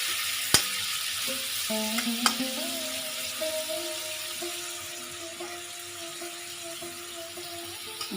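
A cauliflower pickle with white vinegar and sugar bubbles in a pan, giving a continuous soft sizzle. A few sharp utensil taps land early, over faint, steady tonal hums in the background.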